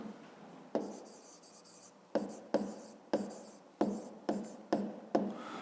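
A hand writes an answer for a fifth-grade maths exercise on paper: a series of sharp scratchy pen strokes and taps, about eight distinct bursts spaced irregularly, close and fairly quiet, with no talking.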